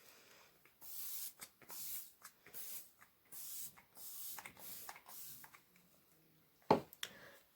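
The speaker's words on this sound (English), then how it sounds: "I'm going to spray my face for the final time" Setting spray misted onto a face, a run of short, close hissing bursts in quick succession, each lasting a fraction of a second, followed by a brief sharp tap near the end.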